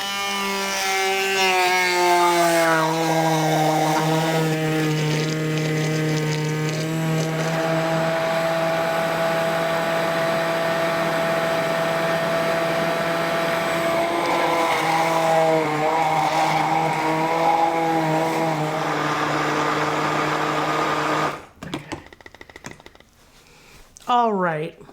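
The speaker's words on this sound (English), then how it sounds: "I'm gonna blend this down a little bit" A blender whirs loudly and steadily for about twenty seconds, blending a jerk marinade with jalapeno, its motor pitch shifting slightly as it runs, then cuts out with brief clattering at the end.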